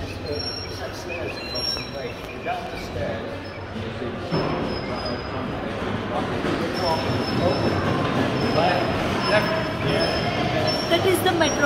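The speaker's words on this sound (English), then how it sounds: "That is the metro link." A Manchester Metrolink tram passes, heard as a continuous rumbling rail roar with thin high wheel squeals, steady and fairly loud throughout, while people talk over it.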